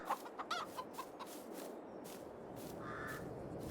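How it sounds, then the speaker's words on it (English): Several game chickens clucking near a coop on a Farming Simulator 22 farm, a few short clucks early on over a steady hum of farm ambience, with no talk. "our chickens are up here"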